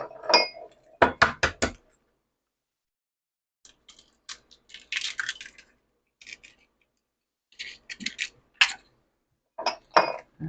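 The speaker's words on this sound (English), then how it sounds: "let's go ahead and mix our eggs and our sugar" Eggs and sugar whisked in a bowl for a lemon thyme cake, giving close clinking strokes of a whisk against the bowl in short bursts separated by pauses.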